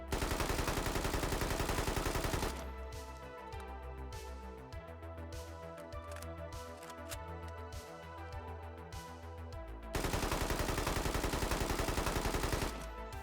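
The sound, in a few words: Malyuk rifle firing full auto in the video game Squad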